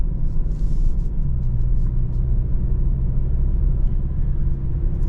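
A 2023 Kia K5 GT with the GT1 package drives along, its engine and road rumble a steady, loud low drone from inside the cabin with no talking.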